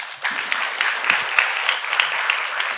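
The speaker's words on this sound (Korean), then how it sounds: "박수 한번 주시죠." An audience at a Korean lecture show gives a steady round of applause, many hands clapping in an even wash that holds for the whole stretch, with no speech on top.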